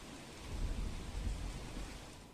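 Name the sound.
heavy monsoon rain in Valsad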